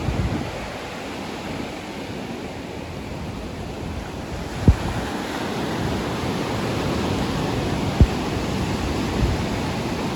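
Ocean waves wash onto a beach in Odisha as a constant broad roar mixed with wind buffeting the microphone, with two brief sharp clicks and no voices.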